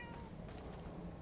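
A faint cat meow, short and soft, over a steady background hum with ambience from the video game Murdered: Soul Suspect.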